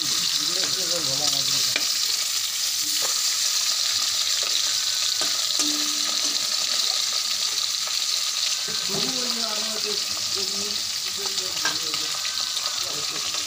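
Hilsa fish pieces frying in hot oil in a pan for a village-style sorshe ilish, a constant close sizzle with intermittent scraping and stirring, plus faint background voices.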